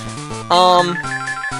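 A loud electronic telephone ring with a bright, tonal trill, close and steady, layered over Pokemon Gold game music.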